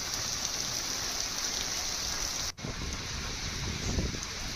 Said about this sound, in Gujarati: ચોમાસાની સિઝનનો આ પ્રથમ વરસાદ જે જેઠ પૂનમથી શરૂ થયો